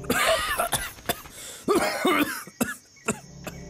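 A person coughs several times in sharp, separate bursts with short gaps between them, loud and close, with no talking.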